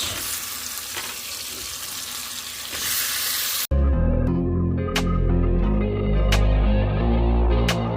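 Chopped onion drops into hot oil for a chilli paneer tempering, setting off a sudden loud, dense sizzle that crackles on steadily and close, following a quieter hissing lead-in.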